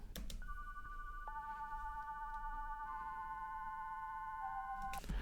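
A synthesizer patch from the free Vital plugin plays clean, sustained sine-like tones that step up and down in a simple melody. The notes are soft and isolated over a faint noise floor, and no one speaks.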